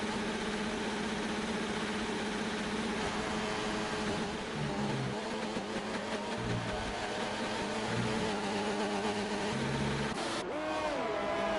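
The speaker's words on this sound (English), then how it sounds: "Not sure what's going on with Frosty Calvin's engine there." A steady, droning Formula-style race car engine in a racing video game at the Bahrain circuit hums continuously at moderate volume, with a brief rising whine near the end.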